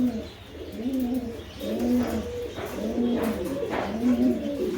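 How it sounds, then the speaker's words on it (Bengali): A pair of homer pigeons coos in steady repeated phrases, close and fairly loud, with a faint chirp now and then and no talking. "তারপর দেখতেছেন এক জোড়া হোমা কবুতর"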